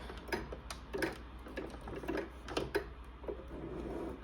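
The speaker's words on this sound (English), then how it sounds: "Sewing in action." A sewing machine stitches fabric in short, faint bursts of rapid mechanical ticking, close by and alone, with pauses between the runs.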